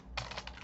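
Several rapid keystrokes on a computer keyboard as code is typed into a JavaScript console, a short close burst of clicks with no talking.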